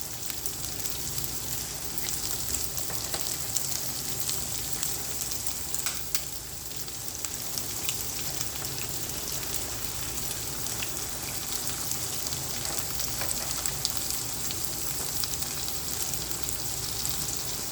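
Country eggs sizzle steadily in a hot frying pan as they are added and scrambled for a mutton liver roll, a constant close crackle with no talking.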